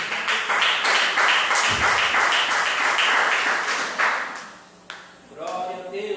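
Church congregation clapping for Jesus at a worship service, a steady rhythmic burst of many hands close and full, tapering off near the end as voices come in.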